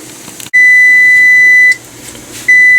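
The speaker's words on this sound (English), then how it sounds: "I'm going to shut that off, shut the timer off." A kitchen timer beeps while flower jelly is cooking: a sharp, loud, sustained electronic tone cuts in, stops, then starts again, with no one talking.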